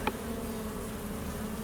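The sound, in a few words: honey bees buzzing during hive inspection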